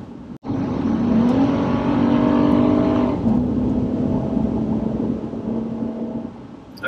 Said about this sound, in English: Okay, I was flooring it, as if I were passing somebody. It made a nice noise.